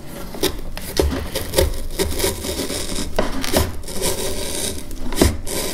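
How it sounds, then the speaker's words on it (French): A knife cuts hand holes into a cardboard kalimba resonator, giving close, scratchy scraping and rasping strokes with repeated dull knocks as the blade works through the cardboard. "Si je veux mettre des trous pour les mains, je prends un couteau."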